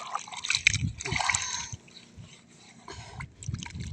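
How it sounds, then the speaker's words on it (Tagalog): Muddy boots being rinsed with water after a mountain hike, with splashing and trickling in bursts, loudest early on and again near the end, under low background noise. "Huhugas tayo ng ating buta. Dahil napakaputik."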